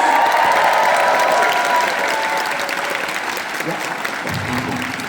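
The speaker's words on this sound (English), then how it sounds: "One more round of applause." A convention audience at MegaCon applauds a Star Trek reunion panel, a loud, continuous sheet of clapping from a large crowd that stays full throughout with a slight easing toward the end, a voice faintly underneath.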